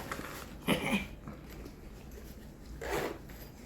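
Inner-pocket zipper on a hiking waist bag made of thick fabric, opened and closed in two quick scratchy pulls separated by a pause, close-up and unaccompanied by speech.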